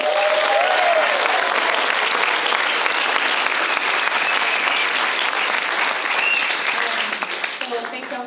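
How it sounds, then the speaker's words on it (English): An audience at a queer arts festival panel bursts into loud, sustained applause with crowd noise and some voices mixed in, holding steady before tapering off toward the end. "Can we get a round of applause?"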